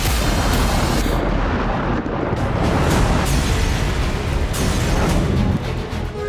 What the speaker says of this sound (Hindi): हमास के ठिकानों पर ताबड़तोड़ बमबारी हो रही है।